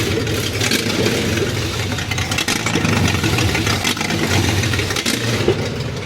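The L30 engine in a 1977 Datsun 280Z, starved of fuel, keeps running with a loud, rough, uneven idle that roars steadily and sputters slightly without dying yet, heard close up and with no talk.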